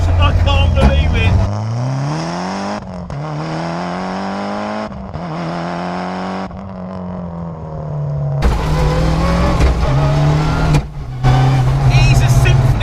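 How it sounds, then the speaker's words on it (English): A road-registered Mitsubishi Evo 6 rally car with a sequential gearbox and anti-lag revs hard and close, climbing through repeated sharp gear changes with whining drivetrain and pops between pulls. "it sounds like an absolute fire-spitting rally car"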